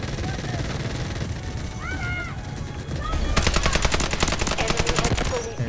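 Carbine gunfire in the shooter video game Delta Force: steady ambient game noise, then a loud, rapid, sustained burst of automatic fire in the second half.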